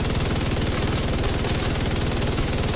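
An LMG in the video game The Division 2 firing at maximum rate during a Pestilence Striker build, a continuous rapid stream of shots rattling without pause, loud and close, with no talking.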